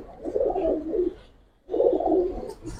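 Giribaz pigeons coo at a pigeon market, two long throaty rolling coos close by with a short pause between, a faint chirp at the end and no talk.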